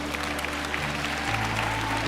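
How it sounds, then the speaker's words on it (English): Audience applause at a talk, dense and steady throughout, filling the space evenly with no voices over it. "somebody ought to clap on that"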